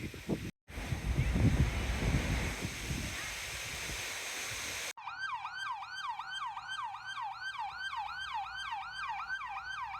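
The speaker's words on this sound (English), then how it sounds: "It's like a fire, an ambulance, and police combination" Wailing emergency sirens in an overlapping fire, ambulance and police blend blare loudly after a stretch of rushing noise on a high lookout in Saudi Arabia, repeating in steady rising-and-falling sweeps.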